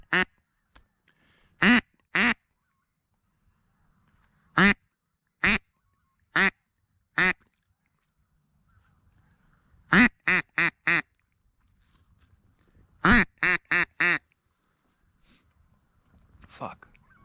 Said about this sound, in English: Oh, I think there might be some ducks.